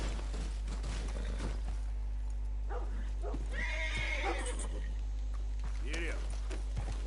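Horse in Red Dead Redemption 2 neighs and whinnies several times with clip-clop hoofbeats, heard close amid game ambience and occasional short spoken remarks.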